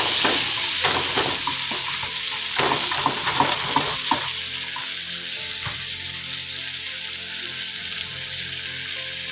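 Onion and tomato sauté in a hot pan for a cauliflower gravy, sizzling steadily with a burst of stirring scrapes and clinks early on, then settling into a continuous fry alone.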